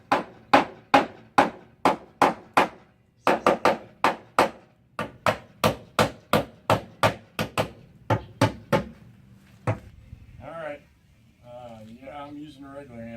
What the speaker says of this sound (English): I'm using a regular hammer, not a rubber hammer or whatever the fancy hammer people use.